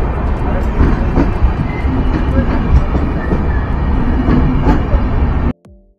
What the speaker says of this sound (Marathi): मडगाव सावंतवाडी दिवा आहे, एक्सप्रेस आहे.